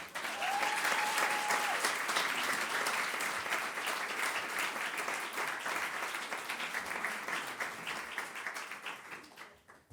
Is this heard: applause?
yes